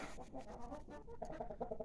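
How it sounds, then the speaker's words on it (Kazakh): Australorp roosters cluck and murmur softly in a quick, uneven series, fairly faint, amid low farmyard background noise. "австралорптың әтештері тұр."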